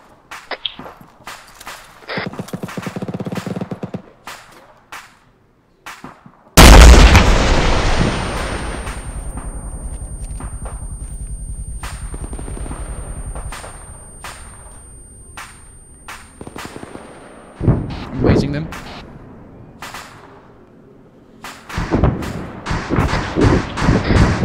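Military video game combat: a sharp, loud rocket blast erupts and rolls off into a long decaying rumble, preceded by scattered gunshots and followed by more cracking gunfire and thuds.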